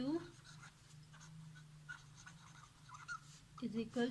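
A pen scratches across paper, writing out a mathematics formula in short, faint strokes, under a voice.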